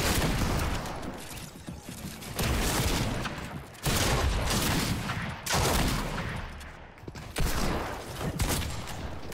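Rapid video game gunfire fills the whole stretch, loud and close, in dense crackling bursts that break into several sustained volleys separated by brief dips, with no voices over it.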